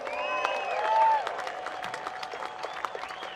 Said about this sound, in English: Give her a nice round of applause, won't you?